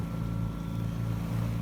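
A sailboat crossing from Corsica to the mainland motors on its engine over a flat sea, with a steady, droning engine hum and light wind noise throughout.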